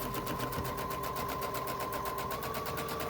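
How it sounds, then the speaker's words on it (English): A sewing machine runs steadily, stitching along fabric for a back stitch on a small reversible tote, with a continuous close whirring hum and no talking. "Then sew along the plate here, line up your point of your fabric, back stitch on the top"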